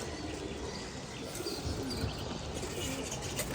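A male Surma Khaki pigeon coos under a steady wash of broadband noise, the calls low and muffled.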